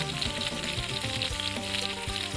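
Pork and raw fish frying in oil give a dense, steady sizzle that holds at an even loudness throughout, with some low tonal hum and occasional soft thumps beneath it and no talking.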